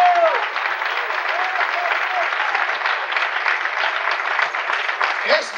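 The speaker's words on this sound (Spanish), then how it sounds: "Dale un aplauso al rey si se lo quiere dar." Audience applause fills a church service, a steady dense wash of clapping that runs the whole time, with brief voices calling out over it near the start and end.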